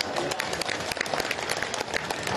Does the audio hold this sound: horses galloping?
no